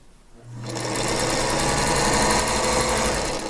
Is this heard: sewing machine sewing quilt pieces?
yes